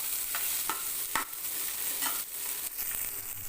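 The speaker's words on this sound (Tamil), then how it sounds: "எண்ணெய் ஊற்றி இது கொஞ்சம் நல்லா வதங்கட்டும்." Tomatoes and onions sauté in oil in a pan for an egg curry, giving a steady close sizzle with a few scraping stirs of a spoon. No one speaks over the cooking.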